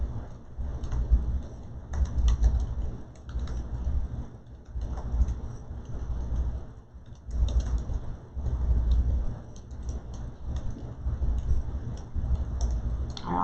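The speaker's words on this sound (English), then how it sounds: "let's see if I can type tonight" Fingers tap on a computer keyboard in irregular bursts with short pauses, close and fairly quiet, with no talking.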